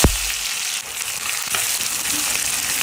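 Hot oil sizzles loudly and steadily in a pan, a dense close hiss with a sharp knock at the start and faint clatters partway through.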